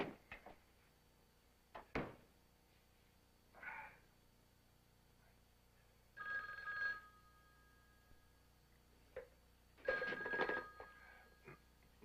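A telephone rings in a quiet room, several short separate bursts spaced a few seconds apart, faint with soft clunks between.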